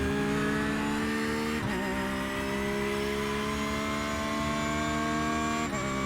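Porsche GT3R in iRacing at Snetterton accelerates hard, its engine note climbing steadily through the revs with brief dips at gear changes, loud and continuous without talk.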